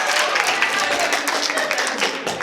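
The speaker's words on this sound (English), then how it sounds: "Clap if you want Ben voted off the island." A comedy show audience claps steadily, a dense wash of applause holding at an even level throughout, with faint voices mixed in.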